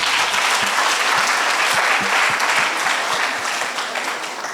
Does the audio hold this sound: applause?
yes